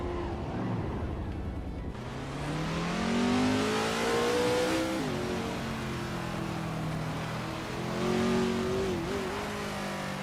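A 1968 Porsche 908 L8 Coupe and rival race cars roar in a racing video game, with engines holding a steady high drone that swells and shifts pitch as they accelerate through gears; the sound is continuous and moderately loud, with no talk.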